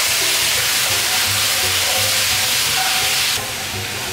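Pork ribs dropped into a hot wok of caramelized rock sugar and oil set off a loud, continuous close sizzle and steamy hiss that eases slightly near the end.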